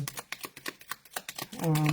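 Tarot cards being shuffled by hand, giving a quick run of light papery flicks and taps at close range, with a voice starting up at the end.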